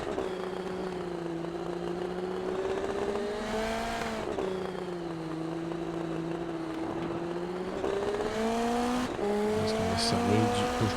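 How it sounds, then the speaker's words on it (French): Indy NXT open-wheel race cars scream past at Indianapolis in a steady high-pitched engine drone, pitch rising and dipping as they run nose to tail in the draft, with a commentator talking over the roar. "la voiture devant lui de Dubé, lui aussi dans l'aspiration"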